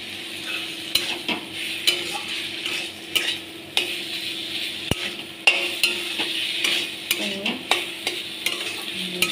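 Tomatoes sautéing in a pan for a chicken dish, with a steady close sizzle and regular spatula scrapes and knocks against the pan at irregular intervals, no voices.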